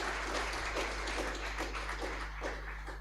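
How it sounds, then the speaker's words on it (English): An audience at an AI for Health symposium at Mbarara University of Science and Technology claps in a quick, even rhythm to welcome a speaker, fairly faint under a steady electrical hum. "Let us encourage her with a hand clap."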